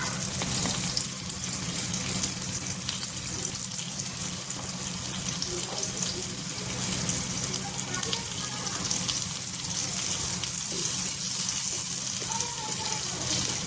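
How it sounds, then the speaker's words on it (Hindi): Okra (bhindi) frying in a pan with little oil for stuffed bhindi, a continuous loud sizzle and crackle holding steady throughout, with no pauses. "बहुत बढ़िया भिंडी है, थोड़ा सा इसको फ्राई कर लें।"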